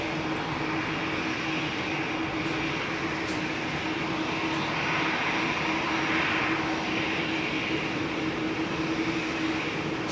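Aircraft engines powering up at Heathrow Airport make a steady, loud jet roar with a constant whine, holding an even, continuous level for the whole stretch with no talk.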